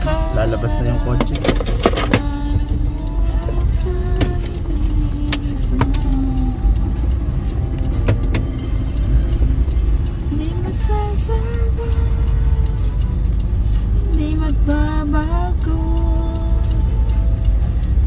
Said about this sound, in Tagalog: Ay, lalabas na yung kotse.